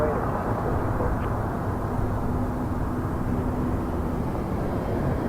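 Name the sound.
Gulfstream jet at Toronto Pearson airport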